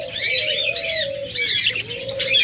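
Budgerigars, a rainbow and an albino red-eye pair, chatter in busy, high-pitched chirps close by, with a softer sustained warble running beneath.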